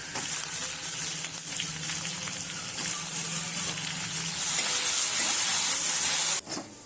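Sliced onion dropped into a pan of hot oil with ground green chillies, giving a steady close sizzle and hiss that swells slightly near the end before cutting off abruptly, with no voices.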